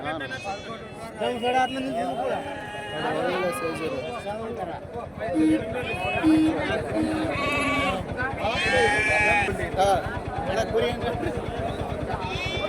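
Several sheep bleat repeatedly, close and overlapping, amid a busy crowd of people haggling over prices nearby at a Monday livestock market in Rampur.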